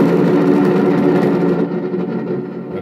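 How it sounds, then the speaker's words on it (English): Traxxas Slash VXL 4x4 RC truck with simulated engine audio revving, a loud, close, buzzing motor drone that holds steady and then tapers off near the end. "I should just be able to rev the engine."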